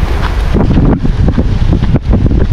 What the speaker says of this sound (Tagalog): dito kami sa kabila mga idol dahil malakas yung hangin